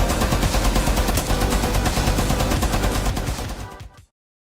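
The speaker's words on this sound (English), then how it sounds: "SMG mounted and loaded!" Sustained, rapid submachine gun fire from Rainbow Six Siege, loud and dense, with a continuous burst of shots running for about four seconds before cutting off abruptly to silence.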